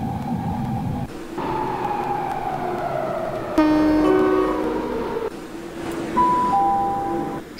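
Metro train in the Roblox Athens Metro game running loudly through a station approach, with steady motor whine, falling tones as it slows, a bell-like chime and a long horn-like tone midway, then high signal beeps near the end.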